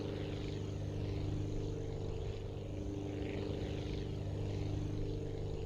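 In the video game Aviassembly, a propeller airplane's engine drones steadily through a takeoff run, a constant loud hum with a buzzing propeller tone that holds unchanged throughout.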